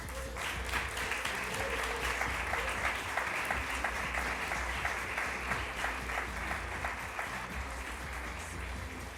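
A Lisbon audience at a Ponte nas Ondas event applauds steadily, a sustained wash of many hands clapping at moderate distance, fairly even in loudness for the whole stretch.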